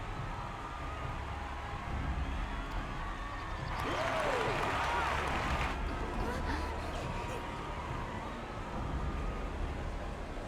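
A crowd in the Final Fantasy XIV Dawntrail game bursts into a swell of cheering and applause midway through, rising over a steady ambient backdrop and fading after a couple of seconds.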